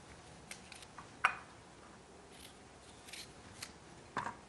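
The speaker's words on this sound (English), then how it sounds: "Use a little paring knife to take out the seeds." A little paring knife cuts the seeds out of a quartered Fuji apple, giving faint, quiet scraping and crisp clicking cuts, with two sharper snaps standing out against a soft background.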